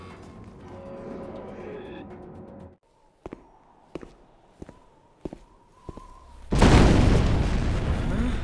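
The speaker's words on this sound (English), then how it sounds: "That wasn't much of an explosion." Explosion in the video game Devil May Cry 4: a few sharp, spaced footstep-like thuds, then a sudden loud blast with a broad roaring rumble that carries on to the end.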